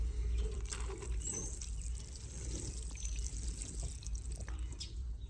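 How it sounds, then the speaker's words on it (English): Water poured into a garden pot to settle a freshly planted celery base, a soft, steady splash and trickle running for several seconds close to the mic. "put maybe the bottom quarter of the celery down in there, water it in"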